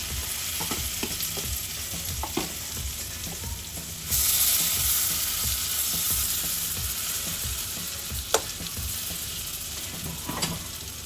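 Beaten chicken omelette mixture goes into a hot pan on a gas flame and starts cooking with a steady sizzle, along with scattered utensil clicks and scrapes, a brighter hiss rising partway through.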